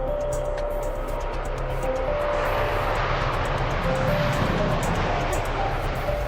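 Singapore Airlines flight SQ-368 taking off from Singapore Changi Airport, a loud, steady roar of jet engines with a faint whining tone running throughout.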